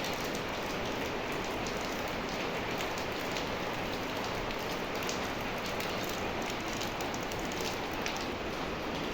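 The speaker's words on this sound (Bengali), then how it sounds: "দেখো কীরকম বৃষ্টি পড়ছে।" Steady, dense monsoon rain falls on the surfaces around a house during the rainy season, an even, close hiss with constant pattering and no talk.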